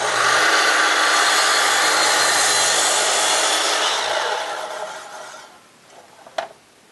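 A power miter saw slices through a 6-inch wide wood board, a loud steady whine and rasp that holds for several seconds, then fades as the blade spins down, ending with a short knock.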